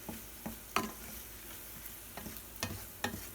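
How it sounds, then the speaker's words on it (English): Carrots caramelizing in bourbon in a pan over low heat, a faint, soft sizzle punctuated by a handful of irregular light taps and scrapes as they are stirred, no talking. "I'm just going to sit here and stir it a little bit until I feel like it's tender enough"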